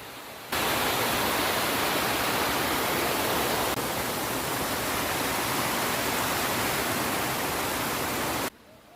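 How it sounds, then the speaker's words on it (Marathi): A stream in Karnala forest flows with a loud, steady rushing of water that runs almost unchanged from start to finish. "इथं मस्त खळखळ पाणी वाहते"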